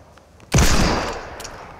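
Automatic gunfire in a video game on a no-scope map, a single loud blast that rings out and fades over about a second.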